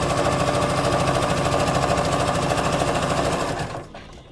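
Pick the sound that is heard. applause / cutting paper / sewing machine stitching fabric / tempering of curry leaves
sewing machine stitching fabric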